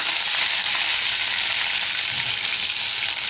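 Mustard seeds and curry leaves frying in hot oil for a Malvani-style tomato dish, a dense, loud, continuous sizzle and crackle close up with no pauses.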